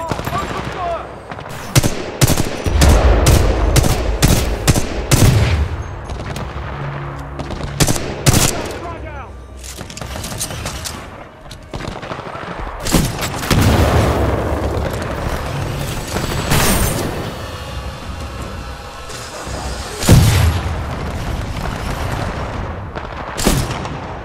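Heavy gunfire and explosions in Titanfall 2, loud and nearly nonstop, with rapid automatic bursts, deep booms and heavier blasts, mixed with shouted voices at times.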